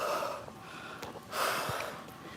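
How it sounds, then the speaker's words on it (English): Heavy, laboured breathing after a Stairmaster workout: ragged, gasping inhales and snorting exhales, close and fairly loud, with no talk. "It's like I'm breathing, but I can't regulate my breathing."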